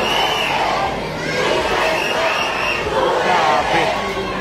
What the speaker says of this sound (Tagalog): Pati po ang mga kabataan ay sumisigaw na po ng katarungan.